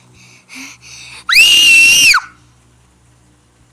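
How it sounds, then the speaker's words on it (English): A single loud, sustained human scream at full volume lasting under a second, rising then falling at the end, preceded by faint background noises and no talk. "I'm going to scream loud as I can."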